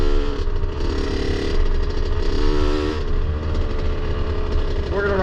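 A dirt bike engine runs loud and close, rumbling steadily with its revs rising and falling, heard alongside talk.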